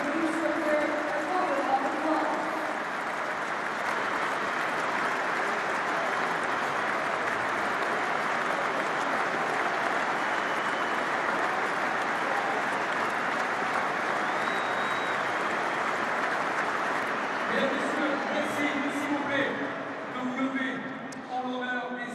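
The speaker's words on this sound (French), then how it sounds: "le public du Stade de France va applaudir en soutien aux Ukrainiens ce soir." A packed Stade de France crowd applauds in support of Ukrainians before a France–England rugby match, a vast sustained roar of clapping lasting about twenty seconds, with a commentator talking over its start and end.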